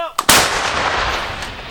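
An artillery gun fires at enemy equipment with a loud, sharp blast right after a short preceding crack, then a long rolling boom that slowly fades.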